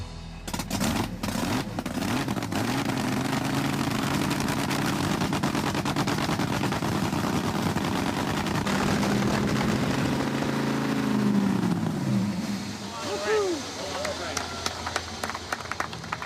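A fuel-altered drag car fires up and runs at a street car show, its engine roaring loud and close with sharp crackling bursts, then revving and dropping back toward the end.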